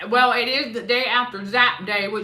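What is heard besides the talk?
No distinct noise like a dog, phone or traffic.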